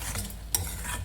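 A spoon stirs green pea masala with ground coconut and poppy seed paste in a pan, giving one short soft scrape over a low, steady sizzle.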